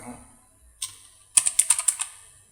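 Someone types a short command on a computer keyboard: a few scattered key taps, then a quick run of about seven crisp clicks, close and clear, with no talk.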